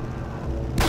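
A single loud gunshot from the video game Red Dead Redemption cracks out abruptly at the very end, following a brief stretch of low, steady game ambience.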